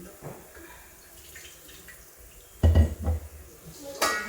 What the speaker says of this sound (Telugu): కొద్దిగా వాటర్ పోసుకుందాం.